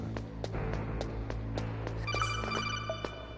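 A phone rings partway through, a faint chiming electronic tone over a low steady background hum, with no voices.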